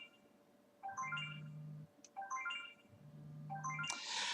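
An HTC phone rings with a faint electronic ringtone, a repeating melodic pattern of rising tones that sounds three times in a row.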